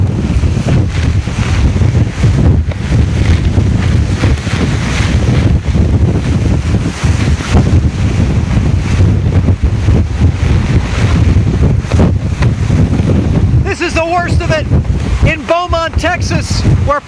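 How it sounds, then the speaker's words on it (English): Hurricane Rita wind gusts in Beaumont, Texas, roaring and buffeting loudly against the microphone throughout, with a voice coming through briefly near the end. "the worst wind gusts are now coming in"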